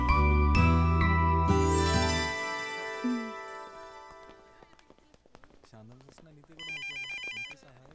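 Telephone ringing in a Telugu film scene, a bright jingling ring tone that sounds loud at the start, fades over a few seconds, then returns briefly near the end, with people talking throughout.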